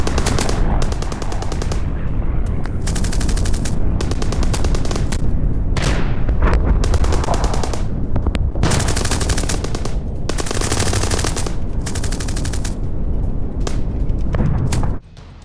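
Sustained automatic gunfire in a gunfight between Russian and Ukrainian soldiers, dense rapid bursts loud and close throughout with heavier booms mixed in, no speech.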